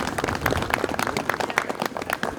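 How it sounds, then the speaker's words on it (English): A crowd claps at an outdoor gathering welcoming the oxen Zeus and Ares, dense brisk applause at close range for a couple of seconds. "Let's give a round of applause for Zeus and Ares."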